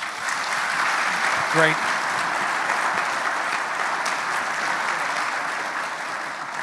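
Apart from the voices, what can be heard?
audience applause for panelists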